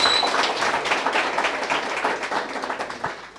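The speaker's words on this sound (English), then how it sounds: "Maybe another round of applause" Audience applause at a live chat event, a dense steady burst of many hands clapping close by for a few seconds, tapering slightly at the end.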